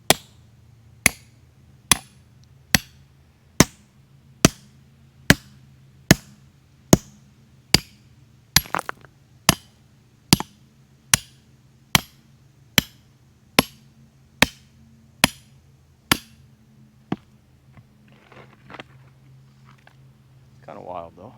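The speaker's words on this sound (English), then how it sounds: "this rock's kind of layered, so I think the layers are going to chip off instead of the whole thing" Tool strikes layered rock about seventeen times in an even, steady rhythm, each hit a sharp, close crack as flakes chip away, with a low background hum and brief talk toward the end after the strikes stop.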